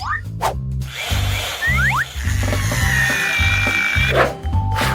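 A power drill driving screws into a bed frame, a loud close whirring buzz that revs in bursts with brief pauses and squeaks between them.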